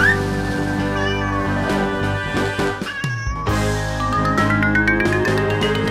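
A cat meows loudly and clearly over a busy backdrop of continuous music, the drawn-out cries rising and falling in pitch across several seconds.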